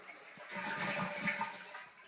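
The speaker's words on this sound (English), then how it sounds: "I had to flush twice on that one." A toilet flushes in one rushing burst of water that swells and fades over a couple of seconds, close by, with no talk over it.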